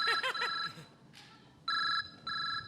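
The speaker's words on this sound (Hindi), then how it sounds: "अबे यार मेरा फोन है, मैं निकालूंगा।" A mobile phone rings on a comedy stage show, a bright electronic trill sounding in quick pulses, then two sustained tones after a short pause, close and clear with faint background noise.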